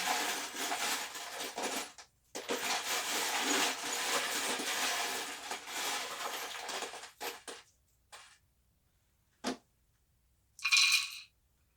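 Loud rattling and clinking of small hard charms shaken in a box for several seconds, then stopping, with a few brief clatters after.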